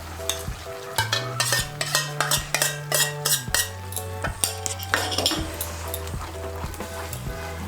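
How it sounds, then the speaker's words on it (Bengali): A metal spoon stirs cashew paste into yogurt in a pan, producing repeated rhythmic clinks and scrapes against the pan over a soft sizzle, with no voices. "কাজু বাদাম বাটাটা একটু মিশিয়ে নেব।"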